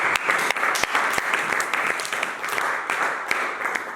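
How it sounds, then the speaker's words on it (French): A church congregation applauds and cheers for Jesus during a worship service, a dense, continuous, fairly close clatter of many hands with a few sharper claps throughout. "Acclame Jésus,"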